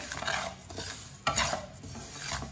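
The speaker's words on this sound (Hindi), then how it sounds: "सारी चीजों को 1 मिनट के लिए भून लेंगे। 1 मिनट के लिए रोस्ट कर लेंगे।" Whole coriander and nigella seeds being dry-roasted and stirred in a pan for mango pickle, faint scraping stirs with a light rattle of seeds, close and quiet.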